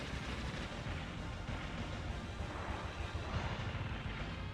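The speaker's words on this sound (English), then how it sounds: "That's what you call a Contra-style spread shot." Spread shot weapon firing in a Contra-style shoot 'em up video game, a dense, continuous barrage of rapid blasts and booming explosions filling the whole stretch at steady loudness.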